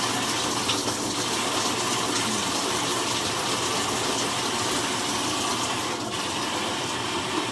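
Washing machine filling with water on a delicate cycle for baby clothes, a steady rushing gush of water running continuously at close range.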